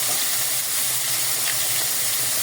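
Finely chopped onion sizzling loudly in a frying pan used for cooking beef, a dense continuous hiss close up with no pauses and no voices.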